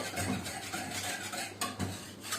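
A spoon stirs kofta tomato sauce in a pot, giving soft, close scraping strokes and light clinks at a low level, with a few sharper scrapes near the end.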